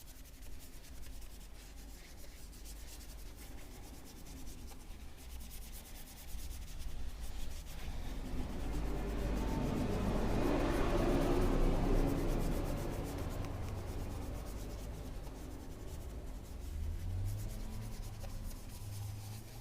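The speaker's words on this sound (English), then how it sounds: "These brushes are really soft, they don't cause scratches, and they'll give your wheels a really good clean as well." Soft wheel brush scrubbing car alloy wheels during ceramic coating prep, a steady rubbing swish that swells louder in the middle and eases off, with no talk.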